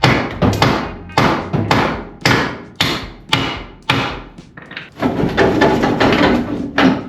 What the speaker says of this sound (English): Knock this other bolt out, and I'll be in business.